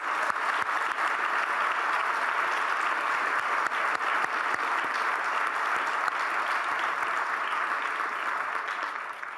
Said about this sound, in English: So I want to give that a round of applause.